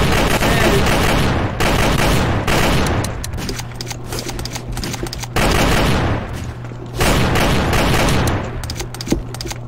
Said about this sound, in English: Where am I getting like double barrel shotguns and like strikers from?